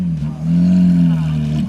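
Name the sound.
loud car engine revving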